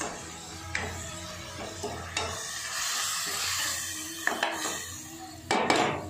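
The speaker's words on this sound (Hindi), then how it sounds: "और इस रेड मिर्ची पाउडर को ऐड करते हैं और कर लेते हैं इसे मिक्स" A spoon stirs red chili powder and turmeric into a hot pan of oil for Rajasthani dal dhokli, with a constant soft sizzle and occasional sharp scrapes and clinks of the utensil against the pan, close and alone.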